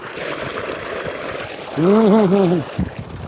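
Water gushes steadily from a farm borewell pipe, a continuous close splashing rush, with a short vocal sound rising over it near the end.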